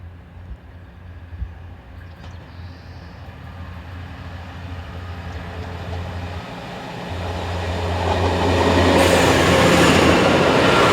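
A German Class 612 diesel multiple unit heading south at Altstatten, a steady rail rumble with a low engine drone that swells louder and brighter as the train draws near and passes close by.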